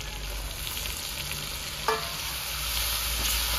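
Chopped tomatoes hitting a hot pan with ginger-garlic paste for Rajasthani junglee chicken cooked without onions, a steady close sizzle and crackle with a brief clink partway through.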